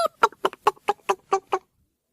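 A hen clucks in a quick run of about eight sharp, evenly spaced clucks, close and clear, then falls silent.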